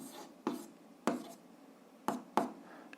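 A pen writes out an algebra solution in short bursts, with four or five distinct scratchy strokes and taps on paper, close and fairly quiet, with gaps of near silence between them.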